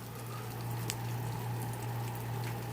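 Sparge water trickling into a homebrew mash tun, a soft steady bubbling patter with a faint low hum beneath and no talking.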